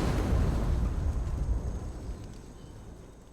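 A Mass Effect 2 video game explosion: a loud, broad, rumbling boom that slowly dies away over a few seconds.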